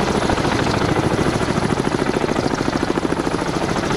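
A helicopter in the submarine video game Cold Waters makes a steady, rapid rotor chop over a continuous engine drone, level and unbroken throughout.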